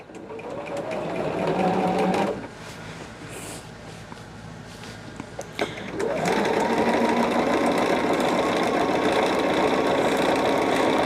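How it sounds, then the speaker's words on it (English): A sewing machine straight-line stitching across a small quilted table topper, heard as a close, fast, steady mechanical whir that pauses briefly and then resumes for a longer run, with light clicks between. "See, doing the straight line stitching, you can get pretty quick."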